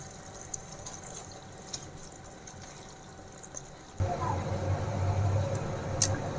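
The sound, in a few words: water being poured into a cooking pot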